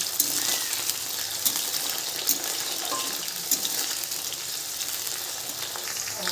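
Cauliflower and mixed vegetables fry lightly in a pan, giving a steady, close hiss of sizzling oil with occasional small crackles and pops throughout.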